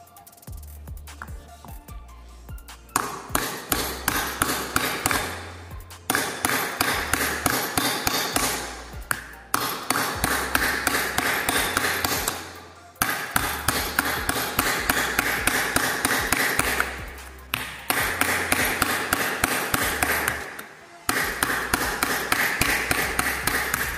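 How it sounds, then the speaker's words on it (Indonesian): A hammer strikes an aluminium sheet on an anvil, shaping it into a half sphere by shrinking. The blows are rapid, steady and ringing, coming in bursts of many hits separated by brief pauses, loud and close with no talk. "Kalian pukul sampai benda kerja kita semuanya pas di landasan yang besar atau masuk semua."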